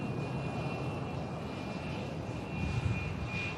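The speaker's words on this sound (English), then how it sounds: "There's an EasyJet next to arrive in from Berlin." An EasyJet airliner arriving from Berlin at Manchester Airport gives a steady, distant engine roar with a faint whine, holding level throughout the short stretch.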